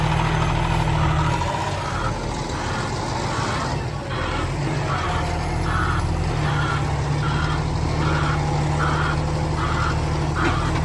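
A dump truck delivering a load of asphalt millings to a firewood yard, its diesel engine idling and rumbling loudly nearby while a repeating reversing beep sounds steadily over it.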